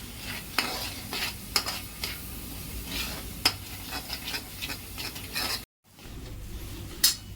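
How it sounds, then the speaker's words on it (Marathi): Homemade masala and pav bhaji masala paste being stirred and sautéed in a pan for potato bhaji, with a steady close sizzle and repeated scraping strokes of a spoon, alone with no talk. "2 मिनिटं छान परतून घेऊ"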